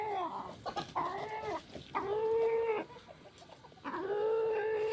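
Hens cluck and squawk up close in long, loud, drawn-out calls, several overlapping in a steady run, with no talking.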